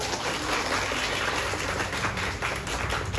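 An audience at a municipal scout event applauds, a dense, steady wash of many hands clapping that stays loud and even for a few seconds, with no voices over it.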